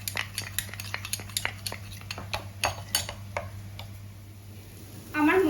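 Spice paste of turmeric and masala being sautéed in a pot for a fish curry, a run of rhythmic metal spoon scrapes and taps against the pot under a faint low sizzle, close by, fading out toward the end.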